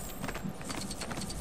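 Horse hooves clip-clop in LEGO Worlds, a quick, busy patter of hoofbeats close by over a constant hiss of game ambience, with no talk.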